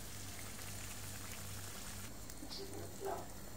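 Squid simmering in its own released water in a pan, giving a steady close bubbling hiss like light rain, with a few brief sharper pops near the end.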